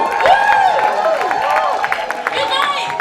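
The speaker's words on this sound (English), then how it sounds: "A big cheer!" An audience at the Flux festival cheers, with scattered clapping under rising and falling shouts and whoops. The sound is loud and close and keeps going with no break.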